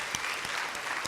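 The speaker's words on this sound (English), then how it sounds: "I applaud you again." An audience at a student poetry reading applauds the poet, a dense, steady wash of clapping filling the whole short moment.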